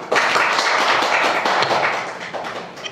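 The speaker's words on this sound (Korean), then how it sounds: "여러분의 큰 박수를" Attendees at a policy meeting on disability product purchasing law clap loudly and close by, a short burst of brisk hand claps that tapers off toward the end.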